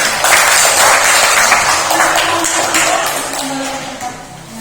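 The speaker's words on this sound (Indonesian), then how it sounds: "Kita berikan tepuk tangan untuk kelompok" A school class claps together, loud and close at first, the clapping gradually thinning and fading toward the end.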